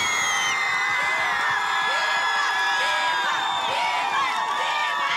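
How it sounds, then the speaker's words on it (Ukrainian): Audience cheers and whoops loudly at an outdoor karaoke contest on a town square, a steady crowd roar with shouts rising over it throughout. "Ваші оплески Дмитро."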